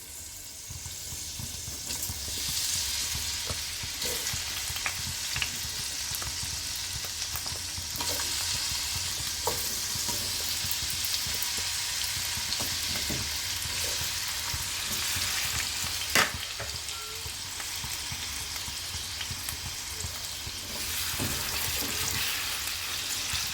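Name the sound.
frying potatoes and carrots in a pan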